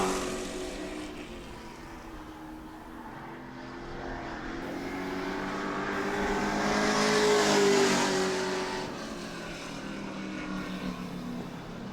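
Pro Trucks roar past on a track during a practice and qualifying session at New Smyrna, engines droning and swelling as they approach, peaking loudly, then fading into a steady distant hum.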